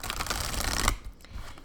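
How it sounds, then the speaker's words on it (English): A deck of cardstock cards being riffle shuffled, a close, dense rapid flutter of cards for about a second, then quieter handling rustles. "I do the riffle shuffle"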